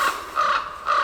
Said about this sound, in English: a crow that won't shut up